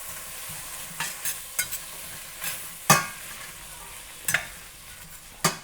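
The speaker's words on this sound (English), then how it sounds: "Butter's melted, let's stir that up." Onions being stirred in melted butter in a pan, several scraping stir strokes with a soft sizzle underneath, close and fairly quiet.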